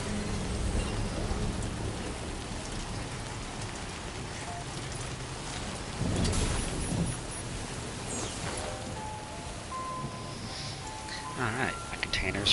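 Rain falls in the video game Death Stranding 2 as a steady hiss of downpour that stays at a moderate level throughout, with someone talking now and then above it.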